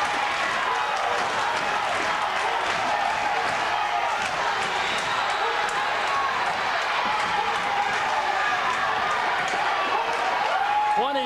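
A packed gym crowd cheers steadily during the closing seconds of a tight high school wrestling dual. A continuous wash of yelling swells slightly toward the end.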